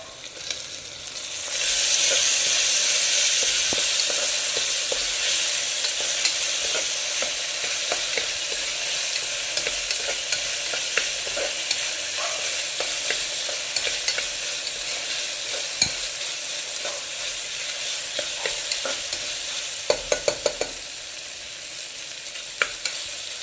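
Onions and spices for potato pulao fry in a pressure cooker with a steady loud sizzle, and a spoon scrapes and stirs through them now and then, making light clinks, with no talking.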